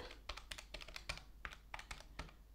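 Fingers tap buttons quickly on a calculator or keypad while adding up budget totals, making a string of soft, close clicks in uneven bursts of about a dozen presses, with no talking.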